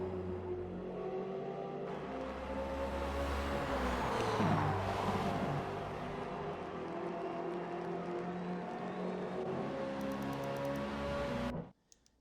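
A race car engine drones steadily as it enters the pits at Le Mans in a racing video game, with a swelling whine midway, then cuts off abruptly at the end.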